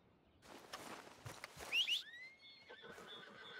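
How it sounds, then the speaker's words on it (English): A horse in Red Dead Redemption 2 whinnies, a bright, rising neigh following a few hoof clops and rustles, fairly close and clear with no talk over it. "While the horse comes around"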